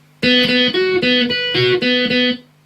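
An electric guitar plays the second part of a song, a loud, close series of about six ringing chord stabs in a driving rhythm, then cuts off.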